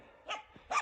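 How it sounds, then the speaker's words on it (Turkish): Dogs barking outdoors at night around a Kangal guard dog, two short barks about half a second apart, moderately close against a faint background hiss. "Bak hala havlıyorlar."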